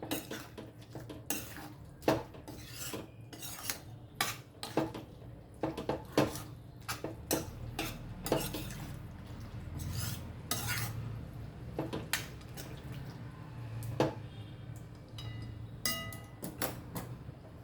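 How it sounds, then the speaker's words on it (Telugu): A utensil scrapes and clanks against a pan as gongura chicken pieces are stirred and mixed, with frequent metallic knocks in an irregular rhythm over a faint sizzle, close and clear, with no speech. "మంచిగా అంతటా కలపాలి అది మంచిగా అన్ని ముక్కలకు పట్టేటట్టు కలపాలి దీన్ని"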